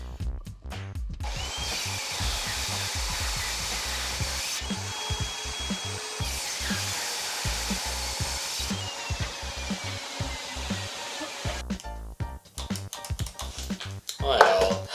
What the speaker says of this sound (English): I used my circular saw and table saw to cut the slab down into a more reasonable size